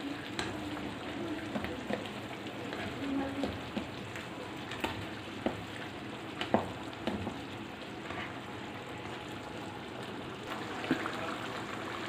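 Peeled tomatoes cook in a karahi for charsi karahi, giving a soft, steady sizzle with faint intermittent stirring scrapes and light taps, fairly quiet and close.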